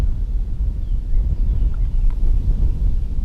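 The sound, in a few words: wind blowing outdoors while fishing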